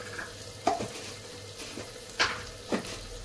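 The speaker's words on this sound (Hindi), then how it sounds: "अब अच्छे से इसके तड़के को भून लूंगी मैं" Spiced tadka tempering with red chili being sautéed in a pan for rajma dal, a soft low sizzle broken by a few scraping stirs of a spoon, fairly close and quiet, with no talk.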